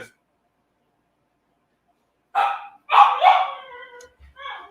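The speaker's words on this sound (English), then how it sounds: "Y'all hear my dog in the background?" A pet dog barks in the background of a home, several short sharp barks in quick succession after a quiet stretch, fairly close and alone with no talk over them.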